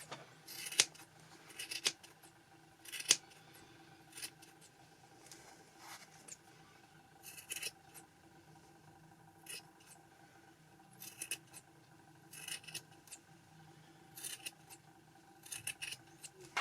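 Scissors trim a yarn pom pom in short, crisp snips, scattered irregularly and sometimes in quick pairs, quiet and close against a faint background.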